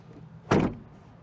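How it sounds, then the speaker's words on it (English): A single solid car door thump from a 2022 Ford Bronco Outer Banks, close and fairly loud, with a short low-end body that fades quickly into quiet. "let's hear how the door sounds when you close it."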